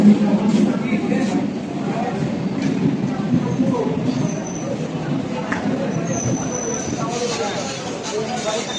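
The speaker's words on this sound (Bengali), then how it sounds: "ট্রেন চলে এসেছে" A train pulling into a station platform rumbles and rattles at moderate loudness, with brief high wheel squeals and people talking in the background.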